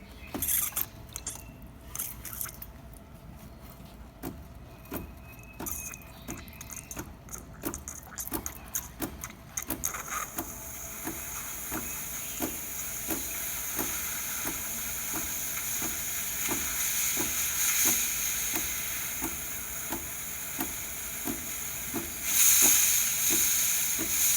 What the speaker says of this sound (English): Next we'll go for steam.